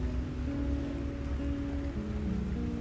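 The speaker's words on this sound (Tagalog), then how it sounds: "Grabe lakas ng ulan." Heavy rain pours steadily on a surface for the whole stretch, a dense, even wash with no pauses and no talk over it, with faint tonal hum running beneath.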